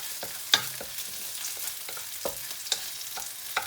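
De-seeded chili sizzles steadily in a hot pan while a utensil stirs and scrapes it, with several distinct clacks against the pan over the continuous frying hiss and no talking.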